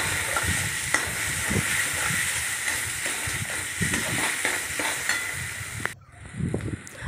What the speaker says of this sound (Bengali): দিয়ে আবার কষতে থাকলাম।